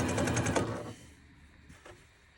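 A domestic sewing machine stitching quilt fabric at a short stitch length, a fast, loud mechanical whirr close by for about a second before it stops, leaving faint rattles and room tone.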